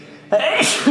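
A single sharp human sneeze bursts out loudly and close, a short intake then an explosive burst lasting under a second.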